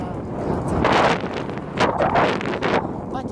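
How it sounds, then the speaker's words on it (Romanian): Wind gusting and buffeting a microphone outdoors while someone walks alone, swelling in two loud surges with a low rushing roar and no talking. "Bate vântul și mă împinge înapoi."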